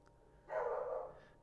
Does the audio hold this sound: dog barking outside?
yes